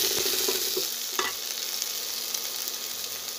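Green chili and ginger-garlic paste sautéing in a pan for kanchi, a continuous hot sizzle with a few quick stirring scrapes early on, close and alone without voices.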